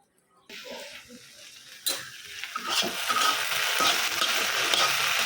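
Okra being fried in a pan for bhindi bhaji and stirred, a sizzle that starts after a short silence and builds into steady frying with scraping of the utensil against the pan.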